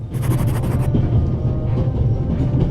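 Train wheels rolling on rails in The Raven, a steady close rumble with rhythmic clatter, loud and continuous, with a brief hiss near the start.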